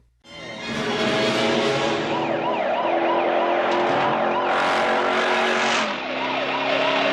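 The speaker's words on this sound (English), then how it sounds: "This cop here is like going fast through parking lots and jumps and stuff." A police car speeds through parking lots in a movie chase scene, its loud wailing siren rising and falling continuously over engine roar.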